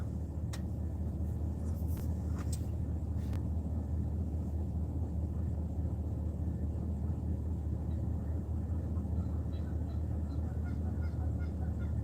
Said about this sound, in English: Hear those Canadian geese in the background